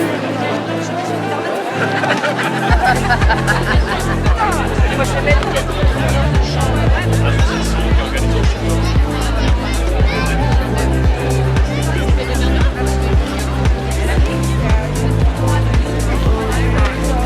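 Crowd at sunset in Paris, a loud babble of many voices with cheering and chatter, backed by a steady thumping party beat that kicks in after a couple of seconds.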